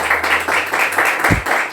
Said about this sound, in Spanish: Pueden darle una fuerte ofrenda de palmas al Señor en esta oportunidad.